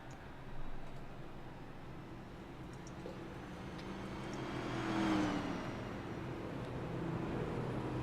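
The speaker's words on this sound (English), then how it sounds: "So all 7 cars on the lead lap make their way down now" NASCAR stock cars roll down pit road at Dover Motor Speedway in a racing video game, a steady engine drone with a soft rise in the middle and a swell near the end.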